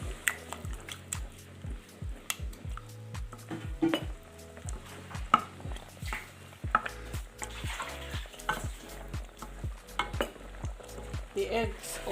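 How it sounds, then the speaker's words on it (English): Eggs being stirred into vegetable soup in a pot produce a quiet simmer with repeated rhythmic clinks and scrapes of a spoon against the pot, plus occasional sharper knocks. "So it's time to add in the eggs now. I give it a good stir."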